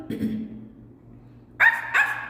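A dog barks twice, sharp and fairly close, while chasing a rat across a backyard, the two barks following a brief low growl-like sound and near silence.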